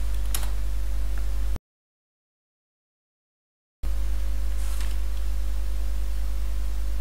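Code being typed on a computer keyboard, with close, light key clicks in short bursts over a steady hum, broken by a few seconds of total silence partway through.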